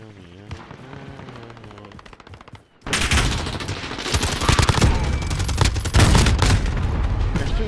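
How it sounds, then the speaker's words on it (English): Gunfire rings out in a Call of Duty MW match where a sniper is shooting: a quiet lead-in gives way to a sudden, loud, sustained barrage of overlapping shots and booms that continues to the end. "Oh, he's sniping from the other side."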